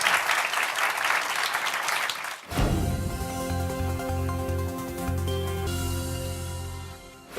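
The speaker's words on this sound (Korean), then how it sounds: "박수 한번 다시 부탁드리겠습니다." Audience applauding at the close of a lecture: dense clapping for about two and a half seconds, then it cuts off and a steady tonal musical passage carries on through the rest.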